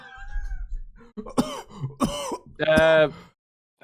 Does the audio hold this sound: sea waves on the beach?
no